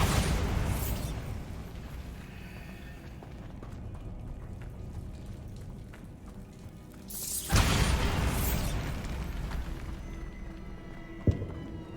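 A Bombarda spell goes off in Hogwarts Legacy over a rumbling game soundtrack. A sudden loud blast bursts out midway and fades into debris noise, followed later by a short sharp pop.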